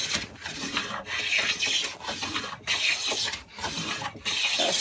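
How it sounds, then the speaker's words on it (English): Steady rhythmic swishing strokes of a sharp hand plane blade shaving clamped wood for a stool, about five passes, close and crisp with no talking. "That swishing sound is a sign of a sharp blade"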